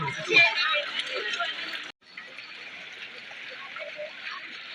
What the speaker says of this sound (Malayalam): നല്ല മഴ വരുവാ